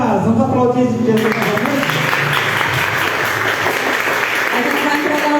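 A church congregation applauds a child's presentation ceremony, a dense sustained wash of clapping from many hands that starts after a second of quieter room sound with voices, then continues steadily and fairly loud to the end.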